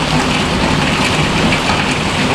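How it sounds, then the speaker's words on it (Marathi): Loud, dense, continuous downpour of heavy rain, a constant roaring wash of drops close by with no voices. "तुम्ही आपल्या पाठच्या साईडला पाऊस बघू शकता"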